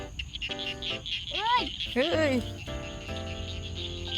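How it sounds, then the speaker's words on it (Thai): Frogs croak and crickets trill in a rice field, a close and continuous chorus over a steady high insect tone, while a few voices speak briefly over it. "เสียงกบหรือเสียงเครียด"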